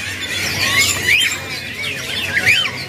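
Caged birds at a bird market stall, including red-headed woodpeckers and local zebra doves, give repeated sharp chirps and squawks in bursts over a steady market background.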